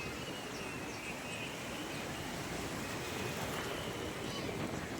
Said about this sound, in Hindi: भाई इतनी लहरें अच्छी लगती हैं